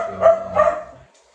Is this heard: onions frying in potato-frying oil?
no